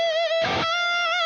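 A sustained electric guitar note rings with a delay effect, a short strummed burst in the middle, and the repeats trailing on after it.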